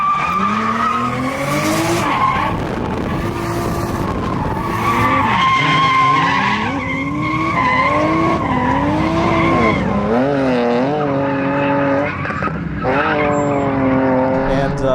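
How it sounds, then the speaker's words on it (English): Drift car at a Hero Cars drift school day sliding with loud, sustained tire squeal and skidding, engine revs rising and falling in sweeping pitches throughout, close and continuous. "We are going drifting."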